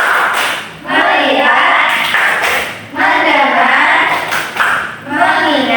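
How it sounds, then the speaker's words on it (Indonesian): A primary school class does rhythmic focus clapping, loud repeated bursts of claps in steady groups while the children chant in unison. "Sekarang kita tepuk fokus terlebih dahulu ya."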